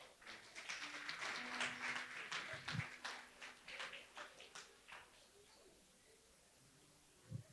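A church congregation claps together at a missions service, dense applause filling the first few seconds and then thinning into scattered claps before fading.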